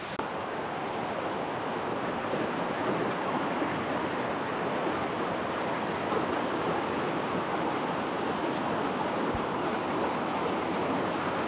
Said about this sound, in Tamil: இங்கே பாருங்கள், தண்ணி எவ்வளோ சூப்பராக போகுது.